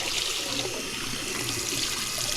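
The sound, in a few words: hot water running from a tap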